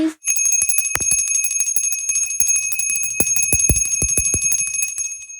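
A small brass hand bell is rung during Hindu aarti worship for the Magh month puja. Its bright, sustained ringing carries on throughout, with several sharp strikes standing out.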